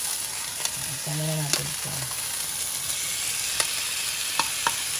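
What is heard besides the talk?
chili frying and sizzling in a pan with corned beef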